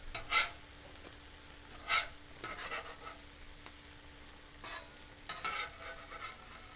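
A double smashburger with sharp cheese cooks on a Blackstone griddle with a faint, low sizzle, interrupted by a few scraping spatula strokes, quiet and close.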